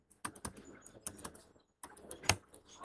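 Keys tapped on a laptop keyboard while HTML code is typed, in short bursts of close, light clicks with a pause in the middle, then a faster run of keystrokes.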